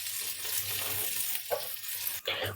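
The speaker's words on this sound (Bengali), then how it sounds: "সয়াবিনগুলোকে বেশি ভাজবো না লাল করে" Soybean chunks fry in hot oil in a wok while being stirred, with a constant crackling sizzle broken by a few sharp scraping stirs, close by with no talking.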